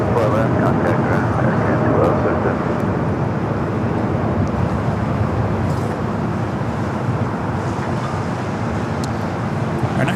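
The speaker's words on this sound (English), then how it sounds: "It's flight 6 touching down at 25 at left." An airliner touches down on runway 25 Left at LAX, a heavy, steady roar of engines and rolling wheels that fills the whole stretch without letting up.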